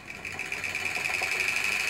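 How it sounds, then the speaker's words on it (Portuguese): A treadmill motor that struggles to start spins with a steady mechanical whine and a low rumbling hum that grows slightly stronger, heard close up with no talking. "O motor quer rodar e não roda."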